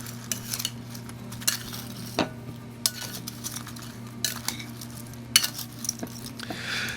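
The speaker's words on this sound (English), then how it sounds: "I'm gonna grab some of this barbecue sauce. I'm gonna ladle that in there. Just gonna mix that up quickly." Smoked chicken wings being tossed with ladled barbecue sauce: close metallic clinks and scrapes of utensils against a bowl, irregular and sharp, over a low steady hum.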